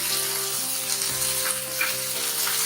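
Chopped ginger and green chili sizzle in hot oil in a pan for a Kerala-style vegetable stew, a steady close frying hiss with occasional light stirring scrapes and no talking.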